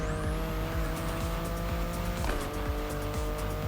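A BMW in The Crew Motorfest races along with its engine droning steadily while the tires squeal and skid repeatedly in short rhythmic bursts, loud and close, with no voices.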